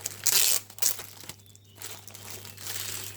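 Crinkling and rustling as a diamond painting canvas is unwrapped from its cardboard packaging, with two sharp bursts of crumpling, a brief pause, then softer, steadier handling noise close by.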